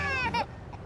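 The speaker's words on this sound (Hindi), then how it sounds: "इंजन स्टार्ट करो तो बच्चे के रोने की आवाज।" An infant cries inside a car, a short, high wavering wail that breaks off and fades to quiet within a second.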